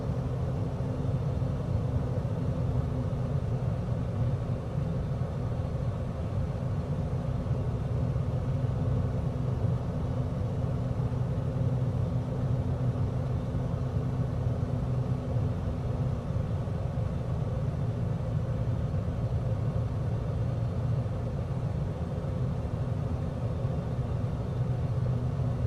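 A simulated aircraft engine in Microsoft Flight Simulator, on a bush trip over Germany from Heligoland, drones under throttle as a constant low rumble with no change in pitch, steady and unbroken throughout.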